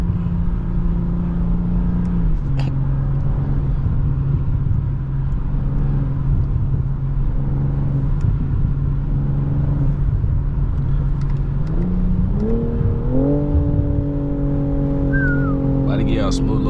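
A BMW G20 M340i cruising on a highway, its exhaust giving a steady low drone with shifting pitch and a rising tone near the end, while someone talks over it.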